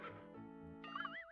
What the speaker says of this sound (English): You picked the horse.